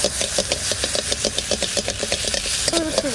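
Stingray fish fat cooks in a pan without added oil, giving a steady sizzle with rhythmic scraping and stirring strokes close by.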